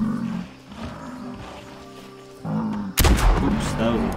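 A hunting rifle fires at a buffalo in theHunter Classic, one sharp loud shot breaking in near the end after quieter ambient rumble and a brief earlier thump.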